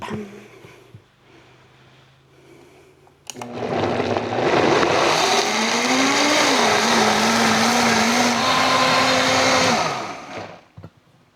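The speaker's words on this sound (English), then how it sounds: "So this blender takes care of that for me. Like I just have too much. Okay, so let's blend this up." A blender purees uncooked tomatoes for a sweet and spicy red pepper sauce. It starts with a sudden loud motor roar that whirs steadily, shifting slightly in pitch as the contents churn, then winds down after about seven seconds, with quiet before and after.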